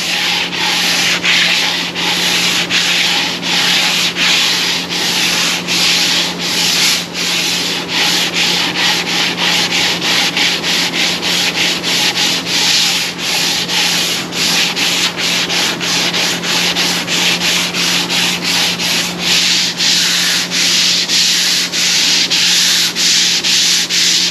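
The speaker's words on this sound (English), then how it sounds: "we're using a 80 grit, a little 3M block, and we'll do these nice long" Hand sanding of gelcoat on a custom seat with an 80 grit 3M block: steady, continuous rasping in long rhythmic strokes, close and loud, with no voices.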